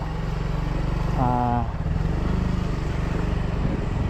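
A Yamaha Mio Fazzio scooter being ridden on city roads, its engine humming steadily and loudly throughout with wind buffeting, while a brief voice or tone rises above the drone near the middle.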